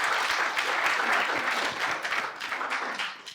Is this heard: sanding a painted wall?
no